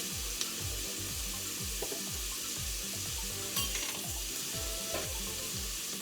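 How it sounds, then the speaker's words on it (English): Garlic and onion sauté in a pan over a steady low sizzle, while faint clinks and stirring sounds surface now and then and no one speaks. "I've sauteed my garlic and my onion to the point of where it's almost translucent"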